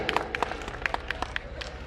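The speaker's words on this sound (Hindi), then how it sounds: "एक बार जोरदार तालियां जी" Sparse, fairly faint hand clapping from a small audience at a community gathering in Faridabad, a loose scatter of individual claps over low background murmur.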